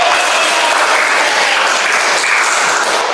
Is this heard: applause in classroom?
yes